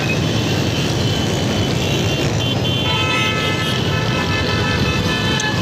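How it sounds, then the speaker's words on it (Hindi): Busy road traffic at Korangi Crossing in Karachi, with a dense, constant roar of engines and car horns tooting now and then, close and loud throughout, with no talking. "ट्रैफिक"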